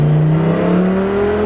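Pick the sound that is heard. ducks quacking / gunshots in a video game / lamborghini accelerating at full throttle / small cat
lamborghini accelerating at full throttle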